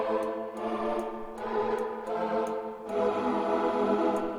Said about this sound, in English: this build-up is basically just the choir from before